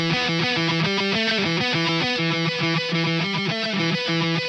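A hollow, metallic-sounding musical phrase with a swirling, phased tone from comb filtering caused by partial phase cancellation in a mix, played continuously without pause.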